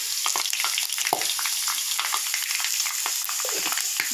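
Onions and fenugreek leaves fry in a pan with a constant loud sizzle, while a spoon scrapes and stirs through them in quick, uneven strokes.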